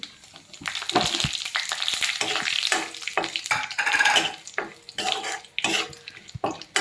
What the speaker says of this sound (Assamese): মই জিৰা অকণমান লৈছোঁ, শুকান জলকীয়া লৈছোঁ, তেজপাত লৈছোঁ। এইখিনি মই তেলত দি দিম।